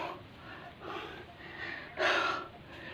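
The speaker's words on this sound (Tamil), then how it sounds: "மூச்சு வாங்குது ரொம்ப." Ragged, heavy breaths while climbing the Parvadhamalai hills, coming in uneven bursts, with one sharp loud gasp near the end; no talking.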